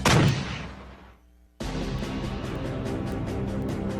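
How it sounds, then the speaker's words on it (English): A rocket is fired into a blacked-out window in a combat setting: a loud blast that rings out and decays over about a second, a short lull, then a sudden heavy roar of continuous rumbling noise. "I'm going to launch a rocket in it."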